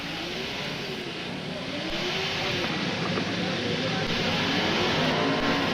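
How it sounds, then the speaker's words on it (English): A powerful engine revs continuously at a 1997 motor event, loud and sustained with rising and falling pitch and a steady roar throughout, alone without talk. "that engine sounds awfully strong"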